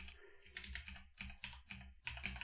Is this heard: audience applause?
no